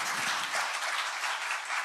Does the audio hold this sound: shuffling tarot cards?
no